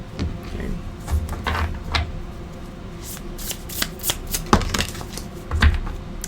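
Tarot cards being shuffled by hand, a steady papery riffling with several sharper slaps and bursts of cards, close and fairly loud with no talking.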